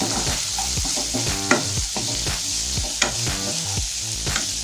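Onions frying in hot oil for a chicken gravy, stirred steadily with repeated scraping strokes and a couple of sharper knocks against the pan over a continuous close sizzle.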